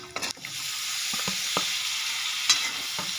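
Chicken and tomatoes sizzle steadily in a pan, with a spoon scraping and stirring in a few distinct knocks over the constant close frying hiss; no voices.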